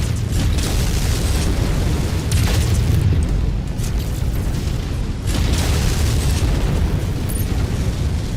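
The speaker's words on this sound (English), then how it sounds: "we've got LRMs on this guy. That's a long stream of missiles." A long stream of LRM missiles pounds a mech in MechWarrior 5: Rise of Rasalhague. The barrage is loud and continuous, with dense overlapping booming explosions and rolling low rumble for the whole stretch and no pauses.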